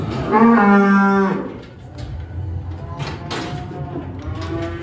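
Cows and heifers on a farm being readied for calving let out a loud, drawn-out moo up close, then fainter overlapping lowing and barn noise continue behind it.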